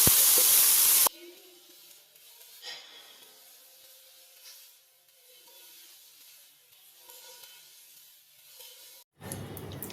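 Garlic frying in oil in a wok for a Chinese restaurant style chicken chow mein, a soft, steady sizzle and hiss framed by louder bursts at the start and end.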